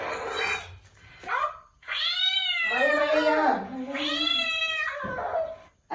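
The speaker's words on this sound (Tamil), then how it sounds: "எங்க வீட்டுக்கு ஒரு பூனை வந்திருக்கு கைஸ். குட்டி பூனை." A small kitten meows loudly and insistently in long, rising and falling cries, close to the mic, with brief pauses between calls.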